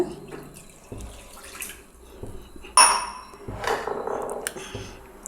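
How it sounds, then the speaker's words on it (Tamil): A tumbler of water poured into an iron kadai on the kitchen stove, heard as a sudden splashing pour that settles into a softer, steady trickle and slosh, fairly close and moderately loud. "இப்போ தண்ணி ஊற்றியாச்சு"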